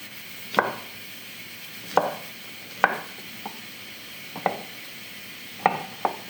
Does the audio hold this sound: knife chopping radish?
yes